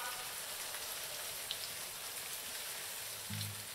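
Heavy rain pours in a steady, dense hiss, with a faint low thump near the end.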